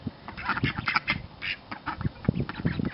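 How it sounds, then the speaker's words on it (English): Ducks on a homestead, among them a young Indian runner duck, quack in quick uneven bursts close by, a busy chattering run of calls at moderate to soft volume. "I really do believe the little one's going to be more of an Indian runner duck"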